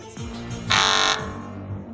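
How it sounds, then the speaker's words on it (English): An emergency lockdown alarm buzzer blares for about half a second, loud and harsh, over a low pulsing tone, with no voices. "Firstly, it'll sound this alarm"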